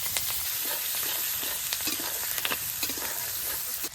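Steady sizzling of onion and green chili frying in hot oil in a wok, with occasional crackles and pops, close and fairly loud with no voices.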